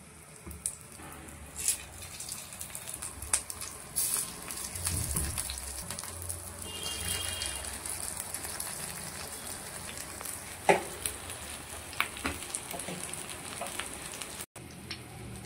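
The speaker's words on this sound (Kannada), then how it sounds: "ಎಣ್ಣೆ ಹಾಕ್ಕೊಳ್ಳೋಣ. ಬದನೆಕಾಯಿಯನ್ನು ಹಾಕ್ಕೊಂಡಿದ್ದೇನೆ ತವಕ್ಕೆ." Brinjal slices fry in oil on a hot tawa, giving a soft, steady sizzle with faint pops and crackles close by. No one speaks over it.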